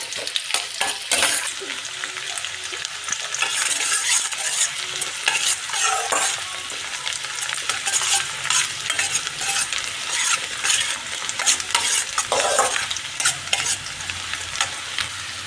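Whole dry red chili and spices, with bay leaf, crackle and sizzle steadily in hot oil for mutton biryani, loud and close, with bursts of stirring scraping through the frying.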